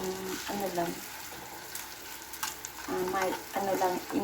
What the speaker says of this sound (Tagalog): At prituhin po natin siya